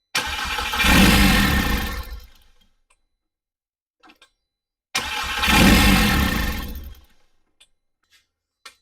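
A swapped engine in a MK6 GTI cranking and firing twice, each attempt a loud, close roar of about two seconds that dies away into silence, followed by faint ticks and clicks, with no talk.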